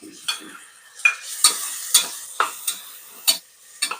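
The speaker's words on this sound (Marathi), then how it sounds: "सर्व 1 मिनिटापर्यंत परतून घेऊ." Potatoes, carrots and peas with grated coconut are sautéed and stirred in a pan for masale bhaat, with a series of sharp spatula scrapes and clinks over a soft, steady sizzle, close and alone.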